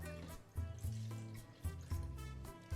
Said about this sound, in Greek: Βάζω 300 ml νερό